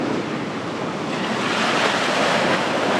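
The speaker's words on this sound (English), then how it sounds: "Whoa, look at these waves." Ocean waves and wind on a sailboat out on Chesapeake Bay, a steady, loud wash of surf and gusting wind buffeting the microphone, rising slightly and continuing unbroken with no voices.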